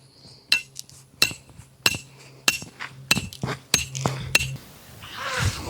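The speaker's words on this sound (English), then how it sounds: "We're going to take our hammer. We're going to drive the ground anchor into the ground" A hammer drives a metal ground anchor and rod into the ground for a pig trap, about eight blows in a steady rhythm, each a sharp ringing clank, close and loud.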